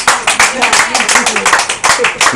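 Congregation at a church healing service clapping in a quick, uneven rhythm, loud and close, with voices talking and calling out over the claps throughout.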